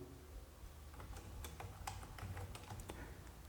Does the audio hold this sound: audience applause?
no